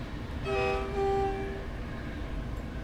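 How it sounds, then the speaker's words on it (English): A Class 91 train horn in Train Simulator 2021 blares at a level crossing in a sustained, harmonic chord for about a second, then sounds again briefly before fading under steady engine rumble. "Giving blast on the horns of that crossing"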